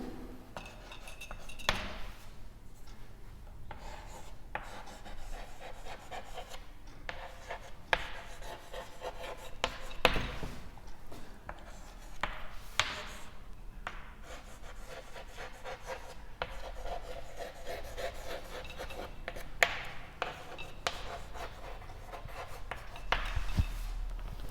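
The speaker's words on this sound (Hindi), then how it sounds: "दो एग्जाम्पल लिखते हैं।" Pen or chalk writing out two example sentences, a steady close rubbing scratch with brief taps between strokes, continuing throughout without talk.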